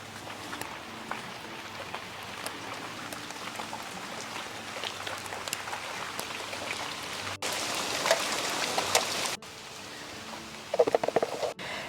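Rain patters steadily onto a vegetable garden with green beans and peppers, a soft continuous hiss of drops that grows heavier partway through, with no voices.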